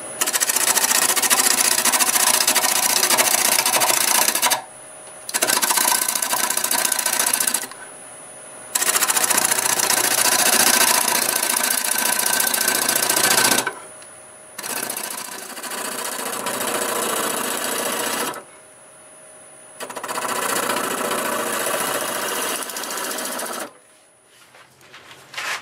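A wood lathe turns a mimosa wood vase under 70 RPM, the tool scraping in long steady passes broken by short pauses, close and fairly loud with a rough, whirring rasp.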